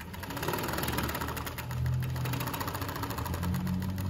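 A Juki MO-6916J 5-thread industrial serger runs through three layers of fabric with a fast, steady mechanical whir and rapid rhythmic needle chatter, close and continuous with no talking.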